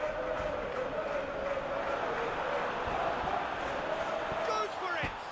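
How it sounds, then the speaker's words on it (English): Simulated football stadium crowd in PES 2019 during a Barcelona attack, a steady loud roar of many voices swelling as they urge a shot, with a rising whistle-like tone near the end. "Crowd calling for him to shoot."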